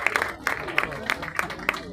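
Audience applause at a World Disability Day ceremony in a town square: scattered, uneven clapping in short bursts, moderately close, with crowd noise under it.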